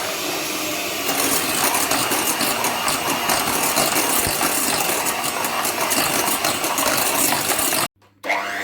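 Electric mixer whirring loudly and steadily as it beats eggs into choux pastry dough, running at a constant pace with rattling texture before cutting off abruptly near the end, then a faint tail.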